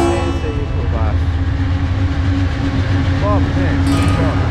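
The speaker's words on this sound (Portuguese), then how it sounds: "Vem aí mais um trem de minério, né?" An iron ore freight train rolls past beneath a viaduct in Serra/Cariacica, Espírito Santo, a loud, steady rumble and rattle of wagons filling the whole stretch, with faint squeals on top.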